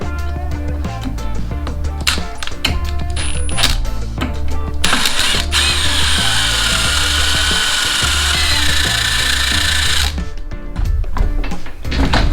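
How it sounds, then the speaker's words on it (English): A power drill grinds into the weld of a Yasuni Z exhaust pipe, running loud and close in repeated bursts with clanking and ratcheting between them and one longer, sustained whine in the middle. "I'm literally going to drill into the weld and try to remove as much of it as possible"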